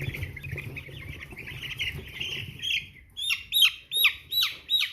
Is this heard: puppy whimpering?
no